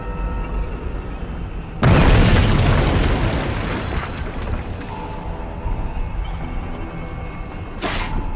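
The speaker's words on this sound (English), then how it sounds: "I think they're setting up some kind of bomb." A bomb detonates in the video game We Happy Few, one heavy, loud boom with a long rumbling decay, followed by a quieter background and a brief sharp burst near the end.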